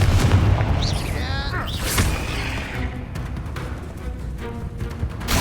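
A Confringo spell explodes in the Hogwarts Legacy video game, a booming blast with whooshing magical effects, followed by softer impacts and rumble while a voice talks over it.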